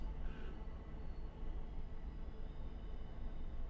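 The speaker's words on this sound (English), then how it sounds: "we have a very heavy train going by right now" A heavy freight train loaded with coal rumbles past outside a house, a low continuous roar that stays steady throughout with no speech.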